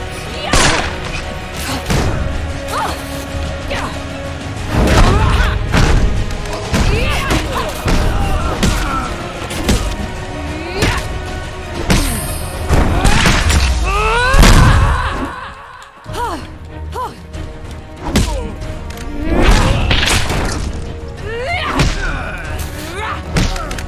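Musketeers fire in Hand of Fate 2, the fantasy card-driven action game, with heavy thuds and booming shots scattered through busy combat noise, loud and close, alongside clashing hits and occasional voice sounds.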